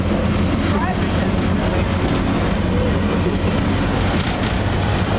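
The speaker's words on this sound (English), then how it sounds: "Train, there we go." Steady, loud rumble of a train in motion, a continuous low drone with faint rattling throughout, close by.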